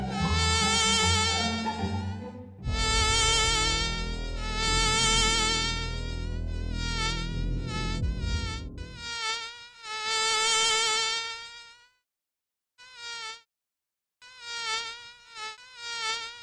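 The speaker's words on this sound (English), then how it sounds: "The Asian tiger mosquito, prevalent in much of France, carries numerous potentially deadly diseases." Asian tiger mosquito whining loudly up close, a high harmonic buzz that shifts in pitch as it moves, with a low rumble early on and brief silent gaps near the end.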